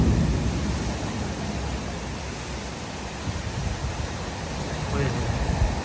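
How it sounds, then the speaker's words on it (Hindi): Dense, unbroken hiss of a violent rainstorm pours down across the whole span, loud and even, with a faint deeper rumble beneath and no clear talk. "बिल्कुल खतरनाक किस्म की बारिश।"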